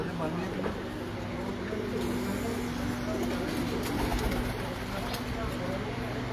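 Pigeons coo softly and steadily throughout, a faint continuous backdrop amid constant ambient noise and a low steady hum, with people talking nearby.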